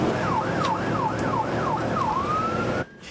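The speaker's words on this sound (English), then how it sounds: "His siren calls out on another heat-related emergency" A nearby ambulance siren on a heat-related emergency call wails in a rapid rising-falling yelp, repeating several times before settling into a steady tone and cutting off abruptly.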